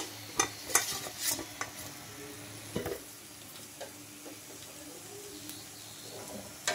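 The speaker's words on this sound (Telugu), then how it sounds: "ఈ కలర్ వచ్చేదాకా అయితే ఫ్రై చేసుకోవాలి" Soft sizzle of moong dal frying in a little oil over a low flame, with stirring scrapes and a few clinks early on, and faint bird calls in the background.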